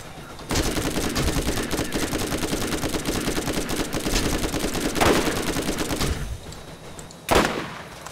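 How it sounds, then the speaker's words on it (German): Automated gun turrets in Borderlands fire in a long, loud sustained burst of rapid shots, pausing briefly before a final short volley. "hier hinten sind nämlich auch Geschütze wieder. Eins hat mich im Visier gehabt."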